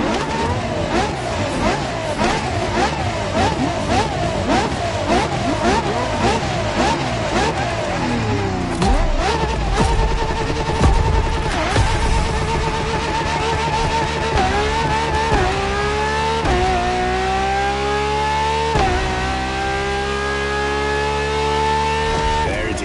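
A LaFerrari's V12 engine in The Crew Motorfest video game revs repeatedly in rapid rising bursts, then pulls hard through long accelerating gear sweeps, loud and close throughout.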